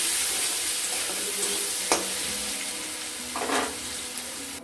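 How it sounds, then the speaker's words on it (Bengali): Potato pieces fry in a pan with salt and turmeric powder, giving an even close sizzle with a couple of sharp spatula scrapes and a brief bubbling swell near the end, no voices. "সামান্য দিয়ে দেব লবণ আর দিয়ে দেব হলুদ গুঁড়ো, দিয়ে এটাকে লাল লাল করে আলুটাকে আমরা ভেজে নেব।"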